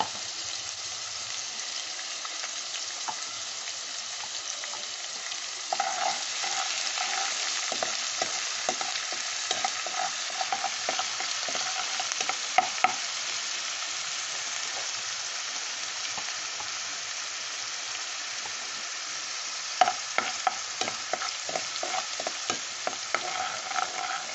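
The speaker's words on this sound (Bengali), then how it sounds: "এবার আমি মাছটা রেডি করবো সেই জন্য পেঁয়াজটা দিয়ে দিলাম" Chopped onion sizzles steadily in a pan for hilsa biryani, a continuous bright frying hiss with scattered crackles and occasional stirring scrapes, close and alone without talk.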